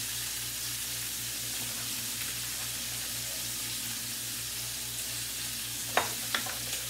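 A whole sausage frying in a pan, a continuous loud sizzle close by with a few brief clinks of a utensil near the end.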